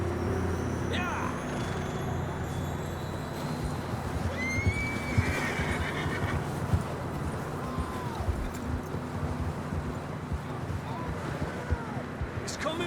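Horses in Red Dead Redemption 2 whinny and snort while hooves thud steadily beneath wind and ambient game sound, with voices calling out over the scene.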